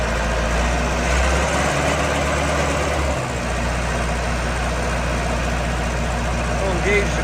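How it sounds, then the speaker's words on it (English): A 1993 Vermeer 1250BC machine runs with a steady, low, rumbling diesel-like engine drone while it hydraulically rotates, the close engine tone holding constant throughout with a slight shift partway. "The machine hydraulically rotates."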